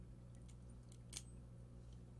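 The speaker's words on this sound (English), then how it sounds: "You got your two keys." Two keys for a Sterling SG1062KA-3 sliding pocket door lock jangling softly in a quiet room, a few light metallic clinks over about two seconds.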